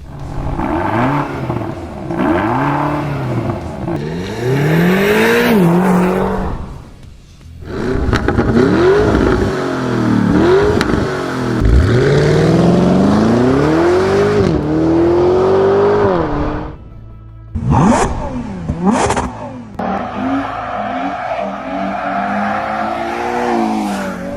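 A BMW XM, Lamborghini Urus Performante and Ferrari Purosangue rev their engines in turn, loud and close. Deep roars climb and fall in repeated bursts with sharp throttle blips, and there are short pauses between runs.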